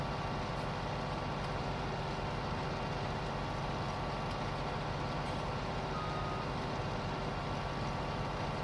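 A steady, continuous reversing alarm from a large farm vehicle backing up in Farming Simulator, beeping over a dense, loud engine rumble with no pause.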